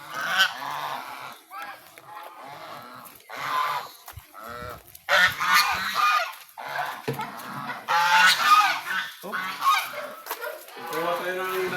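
Turkeys and chickens at feeding time honk and gobble in repeated loud bursts, some close and some overlapping, with brief quiet gaps between the calls.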